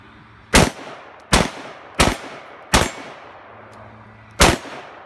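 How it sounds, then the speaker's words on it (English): Five sharp, loud rifle shots from a Smith & Wesson M&P Sport II AR-style rifle, fired singly at an irregular, unhurried pace, each ending in a short ringing decay with quiet gaps between. "30 rounds with the M&P Sport II"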